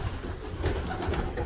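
Racing pigeons coo softly inside their loft, a faint low murmuring burble with soft rustling, continuous and somewhat distant.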